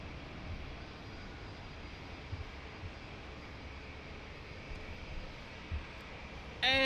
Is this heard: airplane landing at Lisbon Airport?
yes